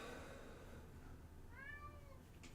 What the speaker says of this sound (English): Can you hear the cat at the door?